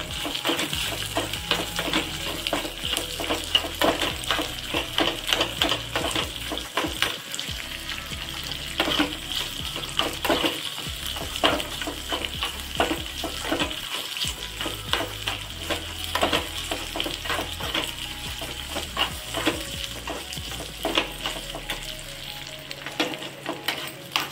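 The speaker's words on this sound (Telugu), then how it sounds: "కొంచెం లైట్గా వేయించుకుంటున్నాను ఈ ఉల్లిపాయలు" Onions lightly frying in a pan, a steady bright sizzle running throughout with occasional stirring scrapes and a low rumble underneath, close and fairly loud.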